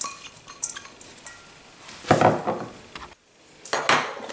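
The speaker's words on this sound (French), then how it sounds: "Alors je mélange tout ça avec de l'huile d'olive." A chermoula marinade is stirred together with olive oil and chopped coriander in a bowl, with scattered scraping and clinking of a spoon against the dish, a few louder knocks near the middle and end.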